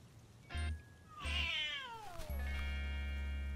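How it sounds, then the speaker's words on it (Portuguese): A kitten gives several clear, drawn-out meows in quick succession, close and loud, with no talking over them. "É uma gatinha."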